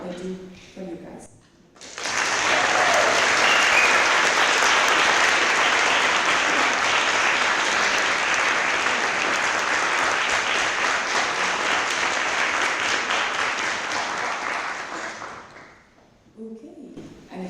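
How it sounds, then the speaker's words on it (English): At a veterinary students' congress general assembly in Denmark, a large hall gives a long, loud round of applause for the executive committee and officials. Brief talk comes before and after the applause. "I would like one big round of applause for the executive committee and all of the other officials"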